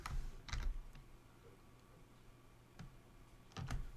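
Keys clatter on a computer keyboard as code is entered, with a few short bursts of quick, close typing separated by brief pauses.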